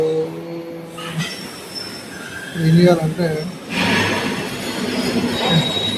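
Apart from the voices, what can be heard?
train at a railway station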